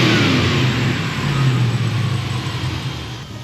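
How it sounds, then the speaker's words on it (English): A rebuilt junkyard 5.3 LS V8, destined for a 1982 GMC C10 truck, runs close up with a loud, continuous, slightly rough rumble and mild rises and dips in engine speed. "the motor's running just a touch rough"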